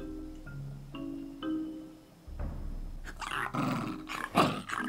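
A dog growls in a video game, a rough, low snarl that swells in the second half over a busy game soundscape, following a few short tonal cues near the start.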